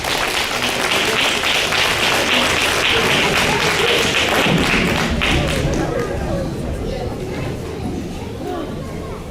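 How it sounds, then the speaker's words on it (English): Audience clapping at a school board meeting in a cafeteria, a steady, loud round of applause from a crowd that slowly thins toward the end, with some chatter mixed in. "Give them another round of applause,"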